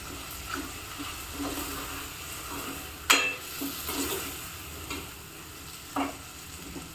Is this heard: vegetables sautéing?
yes